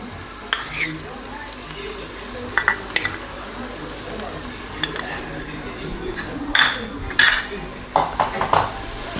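Ginger garlic paste frying in a pan with onion and green chilli for vegetable pulao, heard mostly as clinks and scrapes of a utensil against the pan that come in brief bursts over a low background.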